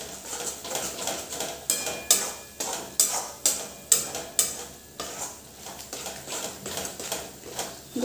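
Chili garlic paste with turmeric and coriander powder being sautéed in oil, with a soft sizzle under rhythmic scraping spatula strokes that come about twice a second, close and moderately quiet.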